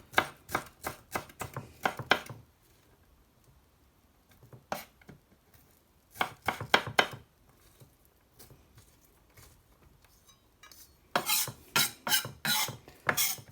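Onions being chopped with a knife on a board, quick rhythmic bursts of sharp taps separated by quiet pauses, close and crisp, no talk.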